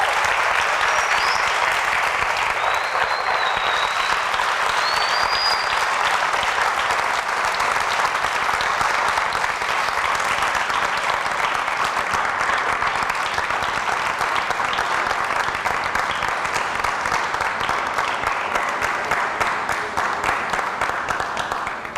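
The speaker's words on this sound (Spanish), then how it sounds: "Si das un aplauso, dalo como corresponde para el rey." Sustained dense applause from a large crowd honoring the king, loud and continuous for over twenty seconds, with a few faint high whistles early on.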